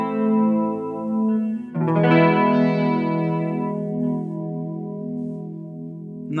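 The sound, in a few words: micro chorus effect on a low rate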